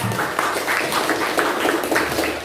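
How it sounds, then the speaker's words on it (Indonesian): Classroom applause at a senior high school, many students clapping together in a steady, dense patter that fills the whole stretch without a break. "kita berikan tepuk tangan"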